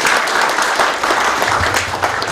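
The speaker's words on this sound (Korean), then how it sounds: "시장님께 다시 한번 큰 박수 부탁드립니다." Loud, dense applause from residents at a mayor's New Year town meeting with citizens in Seolseong-myeon, sustained clapping filling the whole stretch with a faint murmur of the crowd beneath.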